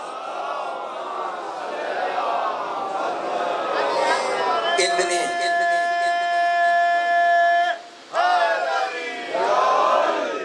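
A large crowd at a Muharram procession gathering in Karachi chants religious slogans in unison, loud sustained voices rising in call-and-response waves, with a brief drop before the chanting resumes.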